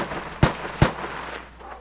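Two sharp 5.56 gunshots in a video game, evenly spaced about half a second apart, fairly close and loud against a low ambient background, with no talking.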